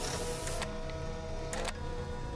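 Mechanical whirring and ticking from a 3D-printer-like machine in a GTA Vice City virtual reality game on Oculus Quest 2, a steady close hum with two brief bursts of brighter clicking, no talk.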